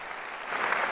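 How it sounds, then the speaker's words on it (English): Faint, brief burst of audience applause at an awards night honouring a young champion, a soft wash of clapping that rises slightly, heard at a distance. "Another round of applause, please, for young Nyon"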